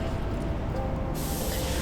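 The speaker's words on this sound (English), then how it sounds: "and spray the base on." A spray gun applies metallic black Glasurit 100 line base coat onto a panel, giving a steady, even broadband hiss that runs unbroken at moderate level with no talking.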